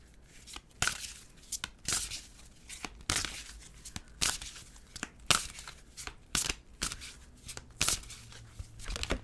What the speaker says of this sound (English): All right, let's pull another card.